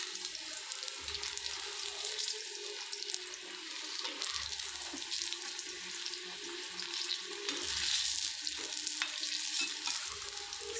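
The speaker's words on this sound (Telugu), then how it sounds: "ఆయిల్ దగ్గర అది మిర్చి అనేది కొంచెం చిట్లుతుంది, ఆయిల్ నా మీద పడింది ఇప్పుడు." Mirchi bajji, battered chilies, frying in a pan of hot oil give off a steady, dense sizzle with scattered sputtering pops, close and continuous, with no talking.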